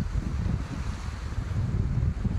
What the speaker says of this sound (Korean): 나중에 영상에 바람 소리가 얼마나 들어갔을지 모르겠습니다.